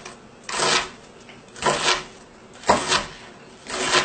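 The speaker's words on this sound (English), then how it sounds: "I'm just going to dice the onions up nice and easy" A knife dicing one white onion on a cutting board while healthy gumbo is being prepared, heard as four separate bursts of crisp chopping strokes at close range, with no talking.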